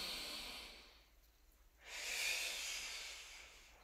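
A slow, deep breath is drawn in close and fairly loud, followed by a pause and then a long, airy exhale through the mouth, with no talking.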